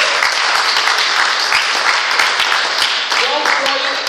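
A church congregation breaks into sustained applause in praise of the Lord, dense steady clapping filling the whole stretch at close range, with some voices mixed in toward the end.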